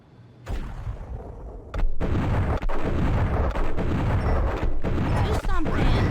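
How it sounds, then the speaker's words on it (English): Loud, close gunfire from the video game Max Payne (Xbox Series X enhanced) in dense, continuous heavy bursts with brief gaps, following a quieter opening. "Muerte went for his gun."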